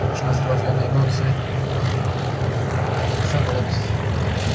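Aerobatic propeller airplane flying before landing at an air show, a loud continuous engine drone rising and falling slightly, with a commentator talking over it.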